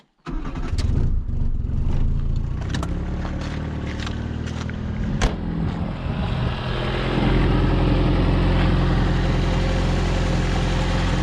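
A Fiat Uno 1.0 engine is started without choke: the starter cranks with uneven bursts and knocks before the engine catches, then settles into a steady, even idle close by.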